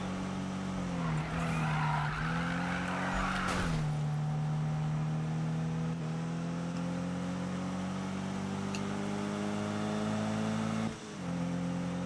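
Car drifting in Need for Speed (2016), a steady loud engine drone with tire skid squeals swelling and easing around a corner, brief revving shifts, no talking.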